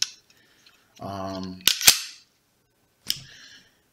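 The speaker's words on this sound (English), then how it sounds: "take the mag out, do our safety check, rack the gun, make sure there's nothing in there" The slide of a Smith & Wesson M&P 45 Shield pistol is racked with two crisp, close metallic clacks in quick succession, followed by a single softer clack. A brief spoken phrase comes just before them.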